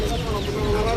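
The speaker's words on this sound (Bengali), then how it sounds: "তো আজকে হাটে অসংখ্য কবুতর উঠেছে।" Pigeons at a busy fancy pigeon market in Puthia, a dense mix of cooing and fluttering birds with crowd murmur and voices talking steadily throughout.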